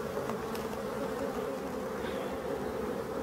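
Black forest honeybees buzz at the entrance of a hive. The hum is dense, continuous and steady throughout, with no voices over it.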